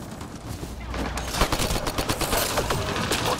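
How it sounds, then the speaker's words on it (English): Rapid gunfire in the video game Mass Effect Andromeda: a steady, rhythmic run of sharp automatic shots, fairly close, growing denser over a few seconds amid background combat noise. "Just keep firing!"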